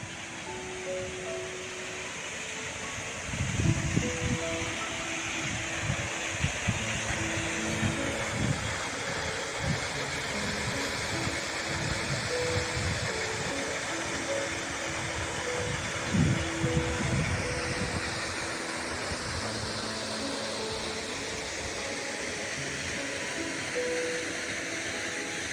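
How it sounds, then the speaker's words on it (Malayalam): A waterfall in Kanthalloor, its water flowing in a steady, dense roar throughout, with occasional low thuds and surges rising out of the constant rush. "ഓ, അടിപൊളി വെള്ളച്ചാട്ടം"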